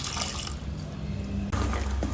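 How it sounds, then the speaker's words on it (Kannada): Water poured into a pan of jaggery with a steady liquid splash and trickle, a brief change in the pour partway through, close and moderately loud. "1/2 ಕಪ್ಪಷ್ಟು ನೀರು ಸೇರಿಸ್ಕೊಳ್ತೀನಿ"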